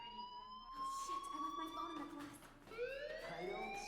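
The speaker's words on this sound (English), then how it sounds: "Hey, do you hear that fire alarm?" A fire alarm rings steadily inside a building in the video game Life Is Strange, with repeating electronic tones that rise and fall under speech and background game sound.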